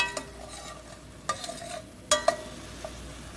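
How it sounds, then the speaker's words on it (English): Vegetables (cauliflower, broccoli, peppers, garlic and ginger) sizzling in sesame oil in a pan, with a low steady fry and a few sharp scrapes and clinks of stirring, close and fairly quiet. "It started to sizzle a little bit more."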